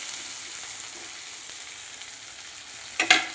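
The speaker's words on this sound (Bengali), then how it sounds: "পেঁয়াজ কুচি, একটু নাড়াচাড়া করে এবার দিয়ে দেব" Chopped onion sizzles steadily in hot oil in a pan for Baul fish, a brief sharper clatter of stirring near the end, no voices.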